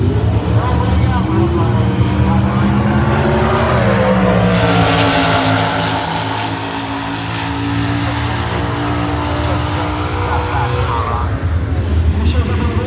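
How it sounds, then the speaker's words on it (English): Drag race cars launch and roar down the strip at Brainerd, Minnesota, with a loud, sustained engine howl that swells and fades as they pull away, under an announcer's excited commentary. "Two cars in the same class got on each other. It's a drag race."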